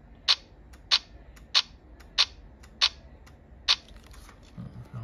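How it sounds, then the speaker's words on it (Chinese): Shutter of a Panasonic FZ30 camera firing in continuous burst mode: six crisp, evenly spaced mechanical clicks about 0.6 seconds apart, close and distinct over a quiet room background. "按住快门就可以进行连拍了。"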